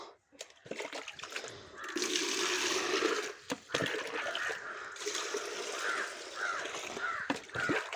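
Crow caws ring out near a home flower garden while plants are being watered, with running and splashing water throughout and a few short harsh calls standing out toward the end.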